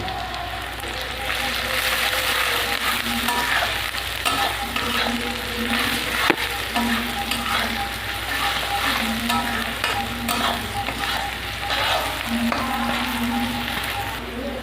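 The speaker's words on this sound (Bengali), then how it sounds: "এবার পেঁয়াজ আর লঙ্কাটা আমি ভেজে নেব।" Onion and green chilli frying in a pan for chicken chow mein, a steady close sizzle with a regular scraping stir repeating about every two seconds throughout.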